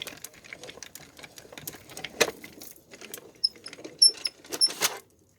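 An electronic cutting machine cuts out a centerpiece for a Christmas craft project, giving a busy run of fine mechanical clicks, whirs and tapping close by, with brief sharp chirps near the end and no talking.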